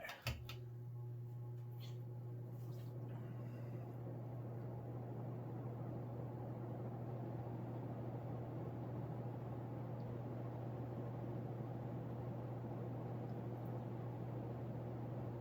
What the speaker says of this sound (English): Let's go and take it to high.